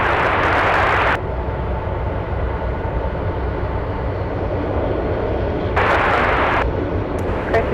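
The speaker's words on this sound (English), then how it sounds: "we are having, what is it, a Hercules land right now" A heavy rumbling roar of a Hercules aircraft landing at Anchorage airport, loud and sustained from nearby, broad and noisy, swelling briefly at the start and again near the end.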